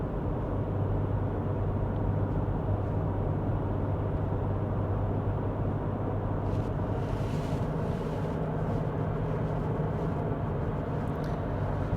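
A car drives along a road toward Graz, Austria, a steady low engine and tyre rumble with wind noise running evenly throughout, with brief brighter hiss bursts near the middle.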